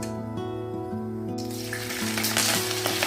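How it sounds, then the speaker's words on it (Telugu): Tempering of mustard seeds, cumin, garlic and dried chili sizzles steadily in hot oil in a pan on a home stove, a close, bright crackle over a faint hum. "ఆయిల్ కాగిన వెంటనే తాలింపు వేసుకోవాలి."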